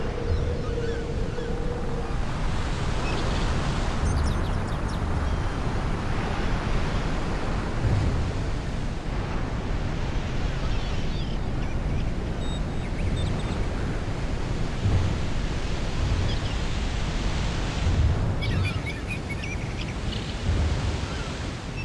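Ocean surf beside Pebble Beach's 17th hole in the Tiger Woods PGA Tour 2004 video game washes in a continuous, steady roar mixed with wind, with no voices heard.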